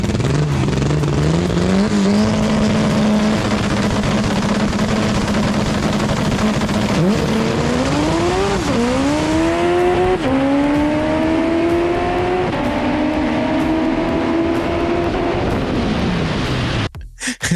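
Onboard a drag-racing EF car, the engine roars loudly and climbs in pitch through several gear shifts, each shift briefly dropping the tone before it rises again, then cuts off sharply at the end.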